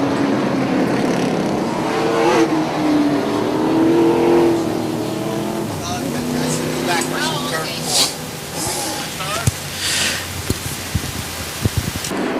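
Super late model race cars running on a track, engines droning and revving as the pack passes, with a commentator talking over the roar throughout.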